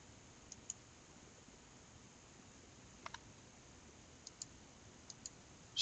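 Several sharp, faint computer mouse clicks in a quiet room, some single and some in quick pairs, spaced irregularly over a few seconds while trades are placed in a stock-trading program.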